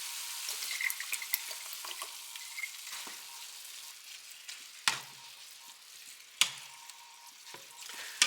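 Ground beef with Hidden Valley Ranch seasoning mix and Worcestershire sauce cooking in a pan, a soft steady sizzle with light crackle and a few sharp clacks of a utensil against the pan, quiet and close, no talking.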